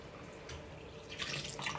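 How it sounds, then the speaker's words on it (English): Evaporated milk poured from a 12-ounce can into pumpkin pie filling, a faint, brief liquid splashing and trickling. "And we pour all of that in,"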